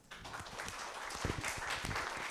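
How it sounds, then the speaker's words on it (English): Audience applause at a celebration summit, a soft, steady patter of clapping from a modest crowd that builds slightly and continues evenly. "Give a round of applause."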